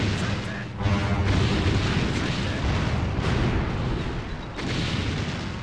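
Ships in Anno 1602 trade cannon fire in a dense, continuous barrage of booming blasts and rumbling impacts, with a couple of brief lulls before the heavy explosions resume.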